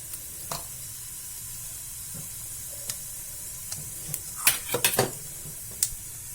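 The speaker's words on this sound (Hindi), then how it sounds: "तेल गर्म हो चुकी है। अब इसमें मैं जीरा डालूंगी," Cumin seeds hit hot oil in a pan, giving a soft, faint sizzle with a few scattered clinks and a cluster of sharper crackles near the end.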